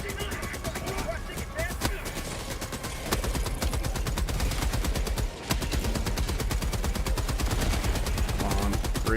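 Rapid sustained automatic fire from a Gatling sentry in a Warhammer-style shooter game, a dense mechanical rattle running nearly continuously for nine seconds, with one brief gap midway, loud and close.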